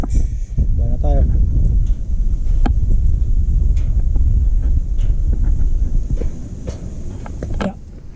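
Steady wind rumbles and buffets across the whole stretch, loud and low, with a few brief rustles and thumps mixed in.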